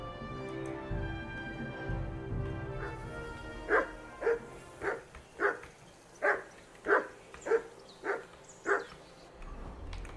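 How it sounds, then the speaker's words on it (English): Medieval-set game Kingdom Come: Deliverance II: after a low ambient stretch, a dog barks about ten times in a steady, evenly spaced series, moderately near and clear. "call that dog to heel."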